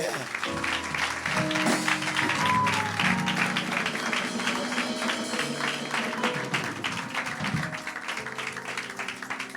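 A congregation at a Bible convention claps steadily and loudly while music plays and voices sing or call out over it, the clapping dense and continuous throughout.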